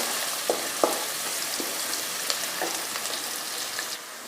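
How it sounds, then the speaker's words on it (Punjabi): Onions frying in a pan for an apple sabzi, a steady close sizzle with a few soft stirring taps and scrapes, with no talking. "ਇਸ ਲਈ ਤੁਸੀਂ ਸਭ ਪਿਆਜ਼ ਨੂੰ ਚੰਗੀ ਤਰ੍ਹਾਂ ਭੁੰਨ ਲੈਣਾ"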